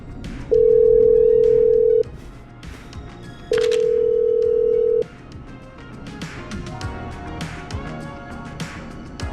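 Telephone tones from a call placed in the Killer Frequency video game: two long, steady beeps about a second and a half each, separated by a short gap, over soft background music.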